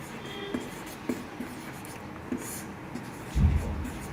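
Chalk or marker taps and scratches on a board during a physics lesson on mirrors, faint scattered strokes at irregular intervals in a quiet room, ending with a louder knock.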